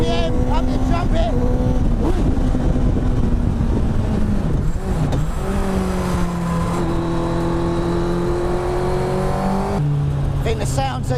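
A loud, high-revving Honda CBR1000RR sport motorcycle engine drones steadily throughout near 10,000 RPM, pitch shifting up and down as it accelerates, with a voice talking over it.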